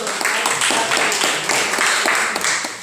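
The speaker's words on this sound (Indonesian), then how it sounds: "Kita beri tepuk tangan dulu" A class claps for a student group, the clapping close and fairly loud with distinct rhythmic beats, roughly in unison, from a small gathering.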